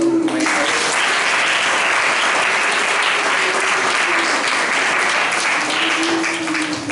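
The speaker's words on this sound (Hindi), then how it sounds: "पवित्र आत्मा को जोरदार ताली बजाओ।" Church congregation at a Hindi-language worship service applauding loudly, dense sustained clapping filling the whole stretch with a faint voice underneath.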